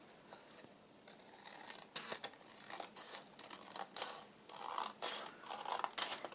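Scissors snip through paper from a junk mail envelope, a run of close, crisp cuts and rustles that come in uneven bursts with no talking.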